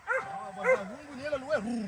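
A dog close by gives a quick series of high-pitched yips and short barks with whiny tones, spaced across two seconds.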